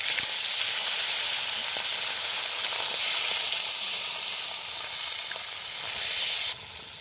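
Fish coated in spices fries in hot oil in a kadai, giving a steady close sizzle and crackle that swells in bursts as pieces shift in the pan, with no talking.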